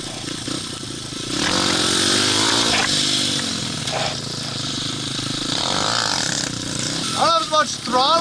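Pit bike motorcycle engine revving hard through a snow wheelie in a spring blizzard, a loud buzzing, chainsaw-like whine rising and falling near the camera, with people talking and a brief excited voice near the end.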